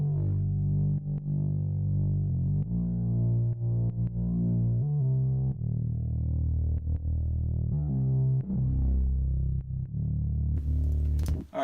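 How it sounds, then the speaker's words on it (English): A thick, distorted synth bass sidechained to a kick drum plays continuously, its volume ducking in a steady rhythmic pumping pattern on each kick, loud and without talk. "you hear that pattern in the bass, and the volume of the bass is going down during that."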